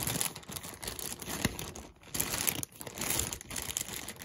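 Close, crinkly rustling of plastic zip bags being opened to unbag vintage jewelry, with bursts of crumpling and handling that pause briefly between handfuls.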